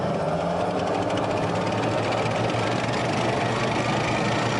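A Field Artillery Ammunition Support Vehicle's engine runs in a steady, dense rumble with a rapid rhythmic knocking throughout, constant and close with no pauses or talk.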